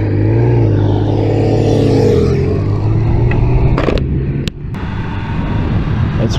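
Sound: Triumph Speed Triple 1200 RS motorcycle riding

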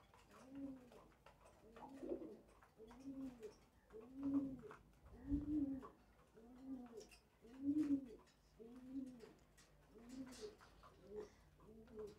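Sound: paired racer pigeons cooing

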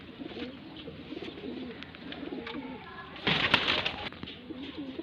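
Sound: pigeons cooing

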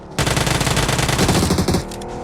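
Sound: gunfire in a shooting video game

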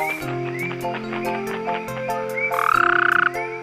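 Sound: frog croaking in a cartoon story

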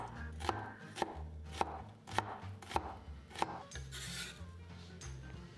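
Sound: chopping shallots with a knife

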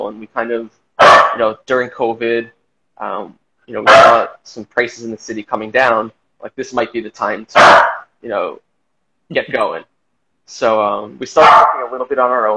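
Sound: dog barking

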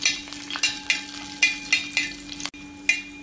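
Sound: cashews and raisins frying in ghee while stirred

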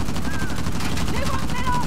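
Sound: gunshots in the video game Uncharted: The Lost Legacy

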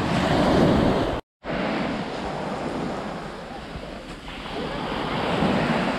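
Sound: sea waves breaking on Konyaaltı beach

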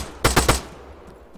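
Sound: AKM rifle gunfire in video game Arma 3

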